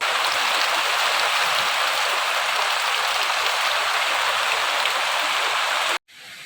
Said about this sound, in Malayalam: ഭയങ്കര മഴ പുറത്ത് പെയ്യുന്നുണ്ട്